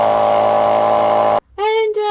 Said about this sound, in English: And this is the sound of the other pump.